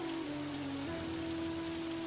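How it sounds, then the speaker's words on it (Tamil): Rain falls steadily during a storm, a constant soft patter on surfaces, with a faint sustained musical tone playing underneath. "மழை வேற பெய்யுது."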